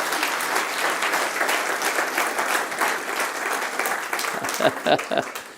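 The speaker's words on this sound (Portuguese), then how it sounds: "aplauda forte o nome do Senhor Jesus" A Pentecostal church congregation applauding loudly in worship, a thick wash of clapping that holds steady and thins into a few separate claps near the end.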